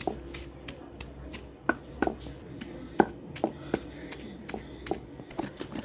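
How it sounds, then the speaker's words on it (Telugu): Green chillies pounded in a stone mortar for gongura chutney: repeated sharp thuds at an uneven rhythm, close by and moderately loud, with no talking. "ఇప్పుడు పచ్చిమిర్చి వేసుకుందాం ఈ విధంగా దంచుకోవాలి"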